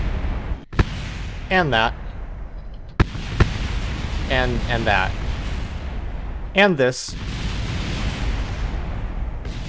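In Kerbal Space Program, crashing craft set off several sharp, booming explosions and impacts at irregular intervals under almost constant talk.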